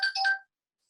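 A mobile phone rings briefly indoors during a panel talk: a short, fairly quiet two-part electronic tone, bright and chime-like, lasting under half a second and then falling silent.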